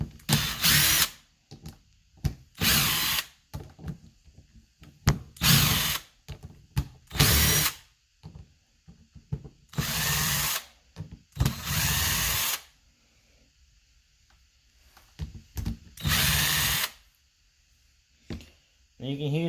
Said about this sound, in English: you can use a ratchet if you want, but I'm making things go a lot faster and easier with this impact